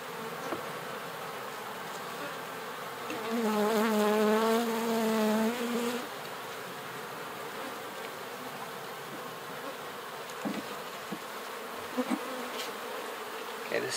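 Honey bees buzzing around an open hive, a dense, continuous hum with one louder, rising drone passing close for a few seconds before fading back into the swarm.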